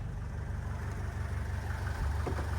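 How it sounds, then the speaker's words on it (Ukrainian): A 2011 Renault Trafic van's 2.0-litre 115 hp diesel engine idles with a steady low rumble and rhythmic chugging, continuous and fairly close, with no voices. "От Зараз буде чути роботу мотора."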